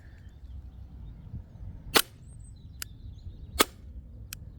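Novritsch SSP28 airsoft pistol firing green gas in single mode, two sharp cracks about a second and a half apart, each with a fainter snap soon after, against a quiet outdoor background.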